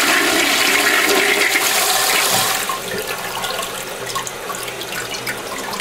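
A toilet that had been clogged flushes loudly and close by, with a rushing surge of water that eases into a steadier draining and refilling hiss.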